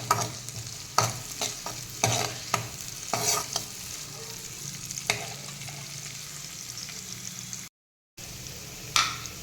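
Chopped capsicum sautéing in a pan for a mushroom dish, with a steady sizzle broken by sharp clinks and scrapes of stirring, loud and close, no voices, and a brief cutout near the end.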